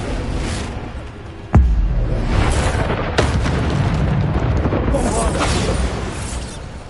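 Spell blasts in Hogwarts Legacy on PS5: a sharp booming impact hits near the start, with a second strong burst and several softer whooshing bursts of magic scattered around it.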